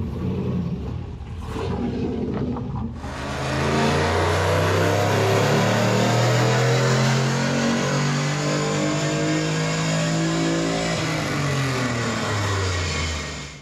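A Moskvich car engine is tested for horsepower on a dyno. It idles roughly for a few seconds, then roars up into a loud, sustained rev that holds steady before easing off at the end.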